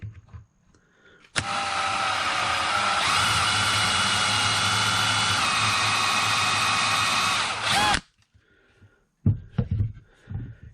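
A power drill bores holes into a 30-40 Krag rifle stock, one loud continuous whirring run lasting several seconds that rises slightly in pitch partway through, then stops abruptly, with faint handling noises before and after.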